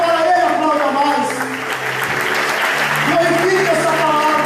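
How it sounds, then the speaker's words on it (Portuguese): A church congregation applauds during a sermon. Steady clapping from many people rises under a preacher's amplified voice, which talks over it at the start and end. "Se for para ele, aplauda mais."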